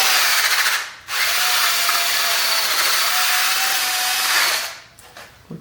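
A rough Scotch-Brite pad on a power tool scrubs a Subaru BRZ engine during a teardown, giving a loud, steady whirring grind that runs almost the whole time, with a short gap near the start and a fade at the end.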